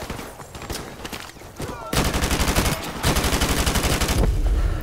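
AK rifle fired in Call of Duty: Modern Warfare Remastered, a rapid, loud burst of automatic gunfire with sharp repeated shots running for several seconds after a quieter stretch, with a voice speaking.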